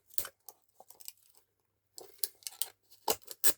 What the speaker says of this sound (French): je pense que je vais mettre des ciseaux,